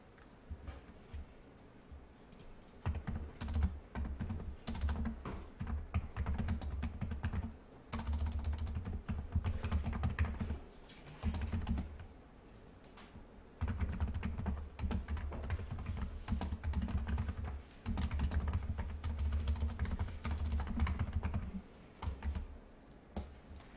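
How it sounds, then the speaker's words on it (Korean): A computer keyboard being typed on and pressed while working in illustration software, heard as bursts of soft, close key taps and clicks separated by short pauses, quiet and steady, with no speech. "컨트롤 시프트 누르고 클릭 해주세요"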